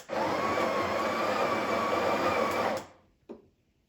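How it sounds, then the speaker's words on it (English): A Breville Barista Express BES870 espresso machine's built-in grinder grinding coffee beans at setting six, a loud steady whir for under three seconds that stops abruptly, followed by a short clack. "keep grinding for another 2 seconds to get rid of the old size"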